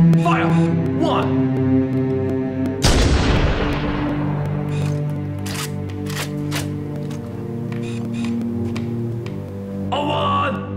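A single loud sniper rifle shot rings out in Halo: Combat Evolved: one sharp, booming crack with a decaying tail, set against sustained game music.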